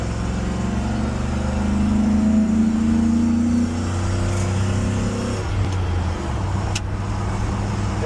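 A 1977 Jeep with a 4.8 engine accelerates along a high-altitude highway, its steady engine drone climbing in pitch through a gear change midway, with road and wind noise throughout and no talking.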